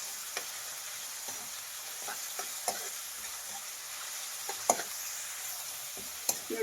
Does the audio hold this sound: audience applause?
no